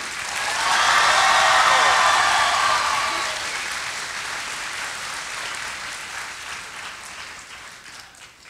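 A festival crowd at FIBD 2018 bursts into loud clapping and cheering at a live manga drawing battle. The peak comes early, then the sound eases into sustained applause that slowly fades.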